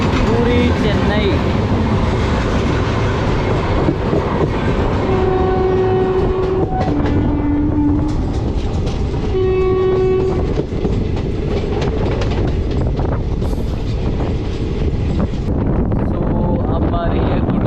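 Madurai Chandigarh Express running past Gudur junction: a loud, steady rumble of wheels and carriages throughout, with sustained horn-like tones sounding in the middle and voices faintly present.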